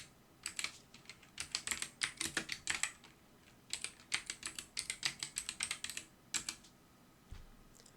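Rapid keystrokes on a computer keyboard while English text is typed, coming in quick bursts of close, crisp clicks with brief pauses between runs.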